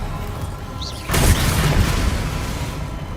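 An Expelliarmus spell cast in the video game Hogwarts Legacy: a sudden loud magical burst that swells into a sustained, rumbling roar with low thuds, after a quieter lead-in.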